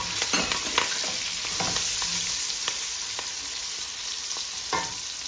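Onions and green chillies fry in oil for prawn biryani, a steady close sizzle punctuated by sharp scraping and tapping of a stirring spoon against the pan.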